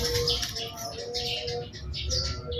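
A local perkutut zebra dove with a crystal-type voice gives high chirping and cooing calls against a mix of other bird sounds, fairly close and continuous.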